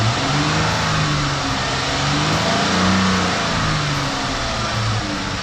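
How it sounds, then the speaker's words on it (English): A Dodge Charger fitted with a K&N cold air intake revs hard, a loud, close, sustained engine roar that swells and eases slightly without letting up, with no talk over it. "rev it up real quick"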